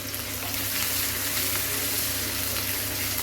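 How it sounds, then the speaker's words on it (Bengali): Green chillies and a little ginger sizzle steadily in hot oil in a home kitchen while chana dal paratha filling is being prepared, a continuous close, even frying hiss with no voices. "আমি আগের থেকেই তেল গরম করে নিয়েছি। এর মধ্যে আমি এখন 2টা কাঁচা লঙ্কা আর অল্প একটু আদা দিয়ে দেবো।"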